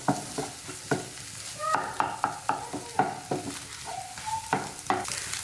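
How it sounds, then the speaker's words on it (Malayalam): Eggs are scrambled in a frying pan for restaurant-style egg fried rice, with a spatula scraping and tapping in a quick irregular rhythm over a soft sizzle, close and clear with no talk. "ഇപ്പം ഇത് ഞാൻ നന്നായിട്ട് തന്നെ സ്ക്രാമ്പിൾ ചെയ്ത് എടുത്തിട്ടുണ്ട്."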